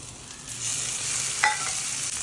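A spice paste sizzles as it fries and is stirred in a pan for Bengali egg curry. The hiss is steady and close, with one brief clink partway through.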